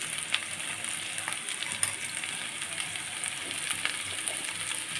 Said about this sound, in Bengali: দিয়ে দেবো হলুদের গুঁড়া দিয়ে আমি ভালো করে নেড়ে চেড়ে মিশিয়ে নেব